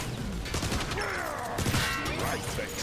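Battle rifle gunfire in a video game rattles out in a loud, dense barrage, with overlapping shots and sharp bursts packed tightly across the whole stretch.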